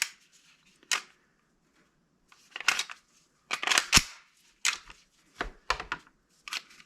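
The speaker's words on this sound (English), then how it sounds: "Good lockback with no ammo, no CO2, but no ammo in." A Glock-style paintball pistol, empty with no CO2, gives sharp mechanical clicks and clacks of the slide being worked and locking back, spaced irregularly and close.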